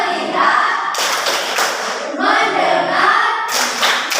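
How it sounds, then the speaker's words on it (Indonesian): A classroom of students claps hands in a rhythmic focus routine, with bursts of clapping separated by chanted group voices, close and lively. "Tepuk tangan fokus."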